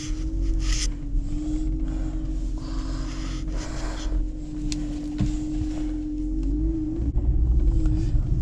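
BMW 325i with a manual transmission idling steadily after being switched on, a loud continuous low rumble with a sustained hum, close up, with small knocks and a brief rise near the end.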